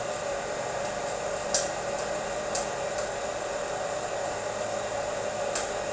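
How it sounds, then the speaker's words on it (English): Green coffee beans reaching first crack inside a FreshRoast SR500 hot-air roaster: a few sharp, scattered pops snap out over the roaster's loud, steady blowing hiss. "As we're just now starting to get into that first crack, you can hear it."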